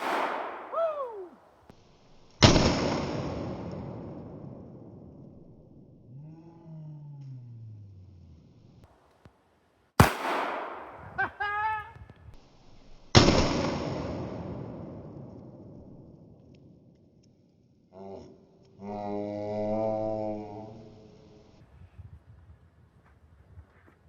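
Loud, close gunshots from a Walther WMP .22 WMR pistol fired at eggs outdoors, three sharp cracks spaced several seconds apart, each trailing off into a ringing decay, with brief voices in between.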